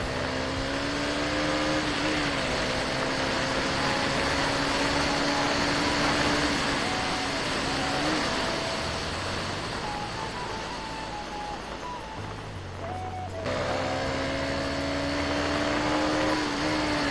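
A KTM Duke 250 motorcycle engine revs and accelerates steadily, its pitch rising and falling in smooth sweeps, loud and close throughout with a brief dip near the end.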